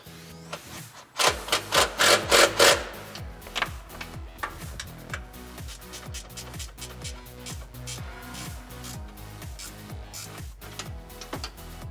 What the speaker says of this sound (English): we're going to tighten up our hangers using that 13mm socket.